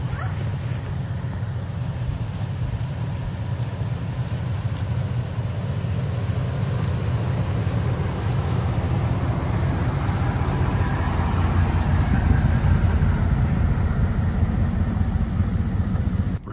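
A car engine runs steadily during a first driving lesson out on rural land, a continuous low rumble with rising road noise, no clear voices.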